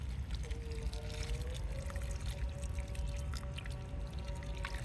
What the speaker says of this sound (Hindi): लगाने के बाद देखिए मैं यहाँ पानी दे देती हूँ।